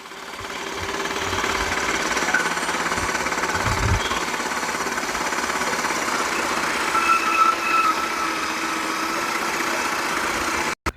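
A Yardforce powered reel mower cuts 1.5 to 2-inch grass up close, a continuous rattling engine drone with whirring blades, ending with a sudden clunk.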